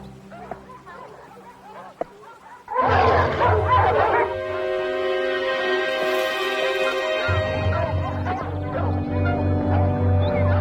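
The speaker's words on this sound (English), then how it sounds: "My hounds." A pack of hunting hounds bursts into loud, overlapping barking and yelping nearby, sustained and rising in pitch before continuing in a chorus of howls and yips.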